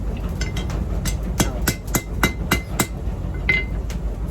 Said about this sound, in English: Flatten up this back a little bit, next heat.